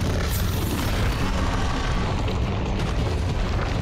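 A loud, sustained explosive boom and rumble in Monster Hunter: World, a dense roaring blast that fills the clip with no pauses.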